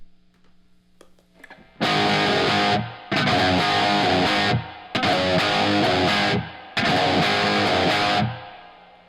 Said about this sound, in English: it sounds more like the actual signal being played a distance away from you in a very large room